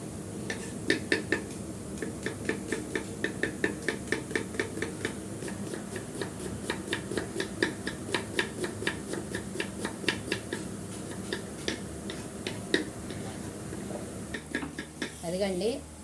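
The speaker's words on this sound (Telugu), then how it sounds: "ఇలా కట్ చేసుకుంటూ ఉంటాం రోజు." Fast, even knife strokes knock against a cutting board as onions are chopped in bulk for an onion masala snack stall. The rhythmic clicking runs steadily and close up.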